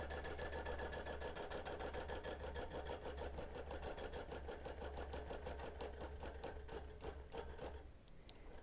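A longarm quilting machine basting a quilt hums and chatters steadily at high speed, a rapid even needle rhythm that runs close and loud for most of the stretch, then eases and slows toward the end.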